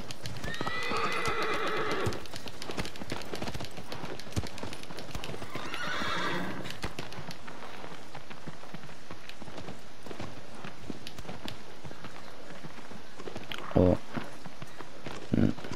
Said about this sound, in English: I hate riding horses.